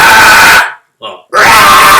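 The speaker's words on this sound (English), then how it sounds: "mid-highs, which are a cross in the middle of a mid-scream and a high scream" A man's mid-high scream, a vocal technique between a mid scream and a high scream, sounds as two loud, raspy, sustained bursts split by a short gap with a brief quieter vocal in between.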